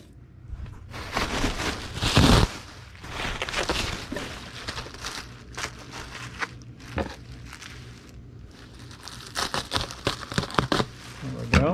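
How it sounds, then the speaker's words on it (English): A sheet of bubble wrap is handled and cut in half while packing a box, giving close crinkling and rustling bursts with occasional sharp snips, under someone talking. "We need a sheet of bubble wrap, and we'll cut it in half."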